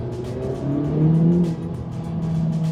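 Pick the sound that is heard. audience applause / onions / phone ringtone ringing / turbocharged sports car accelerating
turbocharged sports car accelerating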